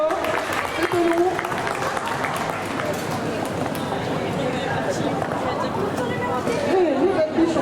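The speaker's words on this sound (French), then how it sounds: "Et c'est la fin de ce jam, on peut applaudir bien fort." Spectators at a French roller derby championship bout applaud at the end of a jam, steady clapping and crowd chatter under an announcer's voice.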